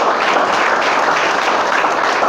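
A church congregation claps and applauds during a worship service, a dense, steady burst of many hands close by, continuous for the whole stretch with no voices standing out.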